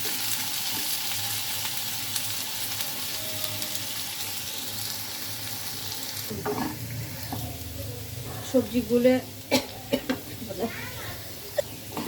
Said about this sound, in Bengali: এবার সবজিগুলো খুব ভালো করে ভেজে নিতে হবে।